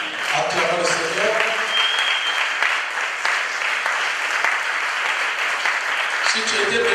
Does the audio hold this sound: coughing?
no